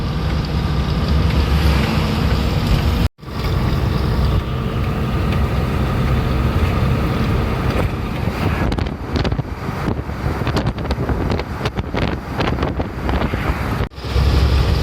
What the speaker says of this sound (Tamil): செம்மையான மழை பெய்யுது மக்களே காற்றோடு சேர்ந்து